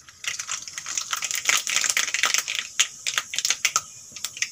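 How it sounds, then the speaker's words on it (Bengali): Mustard seeds sputter and pop in hot refined white oil in a kadai, a dense run of sharp crackles and snaps, close and fairly loud, with no voices. "তেল গরম হয়ে গেছে, ফোড়নে দেব আমি সরষে"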